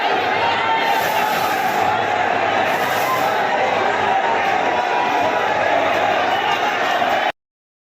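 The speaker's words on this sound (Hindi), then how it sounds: "आप मेरे पीछे भीड़ देख सकते हैं, लाखों लोगों की भीड़ है जो कि दर्शन करने के लिए काफ़ी उत्साहित हैं" A dense, continuous roar of a vast crowd of pilgrims at the Mahakal temple in Ujjain, loud and unbroken, with a voice talking over the din.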